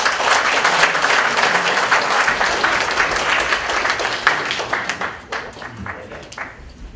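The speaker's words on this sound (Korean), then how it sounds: "뜨거운 박수로 환영해 주시기 바랍니다" An audience at a Korean community gathering in LA claps warmly to welcome a speaker to the stage. The dense, loud applause holds for several seconds, then thins into scattered claps and fades.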